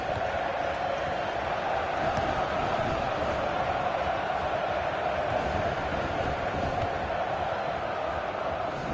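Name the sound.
stadium crowd in the video game FIFA 15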